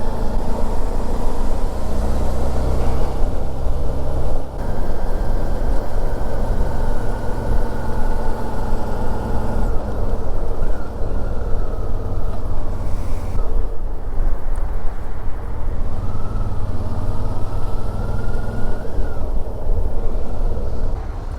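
A Suzuki DL650 V-Strom motorcycle ridden along a mountain road in the Tatras, its engine a steady droning hum buried under constant loud wind rush for the whole stretch.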